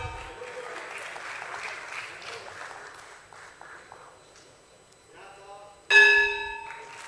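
Applause at the BSE listing ceremony for Jio Financial Services, a crowd clapping steadily before it fades, followed by a sudden loud ringing bell tone near the end.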